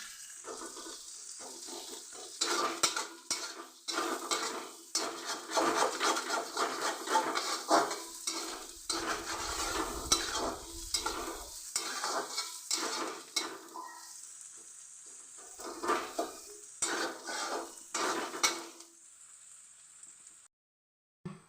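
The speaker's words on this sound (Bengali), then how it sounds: "পেঁয়াজটা আমার ভাজা হয়ে গেছে।" Onions fry in oil in a pan over medium-low gas for a chicken biryani, a steady sizzle broken by rapid, repeated scraping strokes of a stirring spoon, close and busy, easing off near the end.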